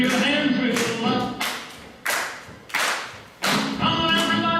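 An audience claps along in uneven bursts at a stage revue show, several loud rounds of hand claps with brief gaps between them, and a voice speaks in between.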